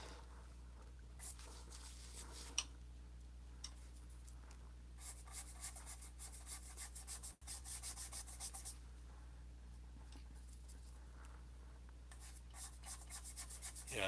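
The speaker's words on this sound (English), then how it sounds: "I'm burnishing the paint in a little bit into the panel" A big brush rubbing and burnishing paint into a panel, heard as a quiet, continuous scratchy scrubbing in repeated strokes with brief pauses, close to the microphone over a low steady hum.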